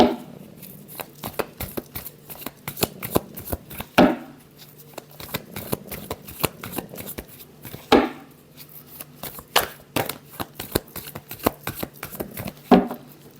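Tarot cards shuffled by hand, a steady run of sharp riffling snaps and flutters repeating for several seconds, close and clear with no talking.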